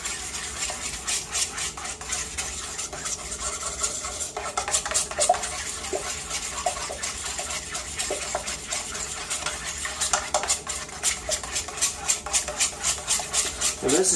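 A spoon stirs a white mirror glaze mixture in a bowl, making a steady, close scraping and swishing that repeats in a quick rhythm for the whole stretch, with no talking.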